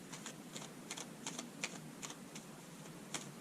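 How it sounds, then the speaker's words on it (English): Hand-drawn tarot cards are shuffled, giving a quiet series of short, crisp riffling taps at an uneven rhythm, close by and without talk. "Let me shuffle the cards that I drew."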